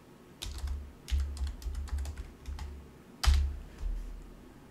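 Keys tapped on a computer keyboard as a password is entered, in short clustered bursts with a few heavier keystrokes, close and clear with no talking.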